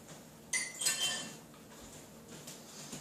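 A metal fork tossed onto dishes gives a bright clatter and a few ringing clinks at once, close and fairly loud, then fades into a quiet kitchen with faint small knocks.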